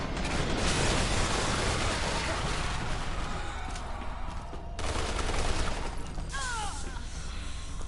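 Enemies shooting in Resident Evil 6, a dense, loud barrage of gunfire that continues almost unbroken, with a brief lull partway through and a voice in the mix.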